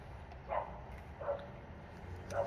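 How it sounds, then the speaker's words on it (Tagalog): A pet dog barks three times in the background, each short bark spaced about a second apart, fairly distant and soft against a steady room hum. "Maingay yung aso ko."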